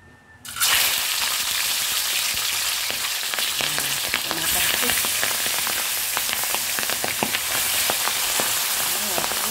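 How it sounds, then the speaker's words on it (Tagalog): Milkfish (bangus) frying in hot oil, a dense, steady crackling sizzle that starts abruptly and then holds loud and close, with brief pops scattered through it and no voices. "ipiprito na natin yung ating bangus. Ayan guys, mainit na yung ating mantika"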